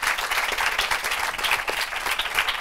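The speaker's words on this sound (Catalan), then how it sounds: "I aquest fort aplaudiment també per ells." A studio audience at a school quiz competition claps in a steady, full round of applause for a competing school team, with no talking over it.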